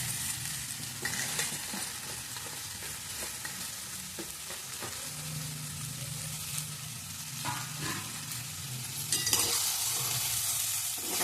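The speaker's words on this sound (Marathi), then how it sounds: "आता याच्यामध्ये तांदूळ आणि डाळ भाजून घेतलेली घालायचं आहे" Roasted rice and moong dal being stirred in a frying pan with tomato for khichdi, a steady sizzle under a spoon's intermittent scraping, close and fairly even throughout.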